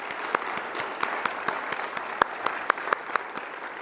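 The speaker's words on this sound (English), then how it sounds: "Just a round of applause for everyone." Audience applause at a university student affairs awards ceremony: steady dense clapping from a crowd in a hall, with a few sharper individual claps standing out, sustained throughout.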